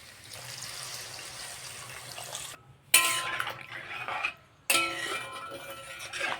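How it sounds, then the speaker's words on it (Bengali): Water poured into a pot of spiced masala for an egg omelette and potato curry, coming in two splashy, close bursts that cut in after a quiet gap, over a low kitchen hum. "এবার আমি জল দিয়ে দেবো"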